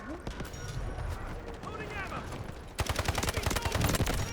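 Bursts of gunfire in the video game Delta Force crackle in a dense, rapid volley that grows louder and sharper in the second half, with an excited voice shouting over the shooting.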